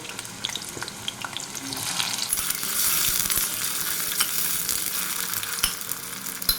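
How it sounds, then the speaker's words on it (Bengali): Potato pieces frying in hot mustard oil, a steady close crackling sizzle that swells around the third second and holds, with occasional sharp pops and faint stirring clatter. "এবার সর্ষের তেলে দুটো আলু মিডিয়াম সাইজের আলু কেটে নিয়েছি এটা একটু ভেজে নেব"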